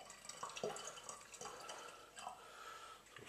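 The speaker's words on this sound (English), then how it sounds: "I'm just going to put some tepid water in when I'm getting out of the kettle" Tepid water from a kettle pours steadily into a homemade orange wine mixture, a soft continuous splashing and trickling with a few brighter drips, faint and close, with no talk.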